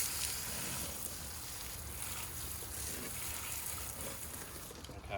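Water from a hose rinses a carbon fiber wheel barrel on a Shelby GT350R or GT500, heard as a steady, broadband spraying hiss, fairly faint and continuous with no talking.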